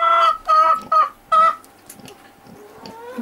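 Chickens cluck in a short burst of loud, close calls, four or five sharp clucks in quick succession followed by softer, quieter clucking and rustling, with no talk.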